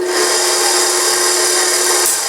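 A stand mixer whirs loudly and steadily as boiling sugar syrup for homemade marshmallow is poured into its bowl, with a continuous, dense motor drone and no voices.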